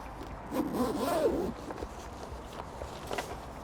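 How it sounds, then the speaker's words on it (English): An immersion suit is unzipped on a ship's deck: one long, close zipper pull lasting about a second, followed by quieter rustling and shuffling of the suit material. "Then we unzip and unbuckle the suit."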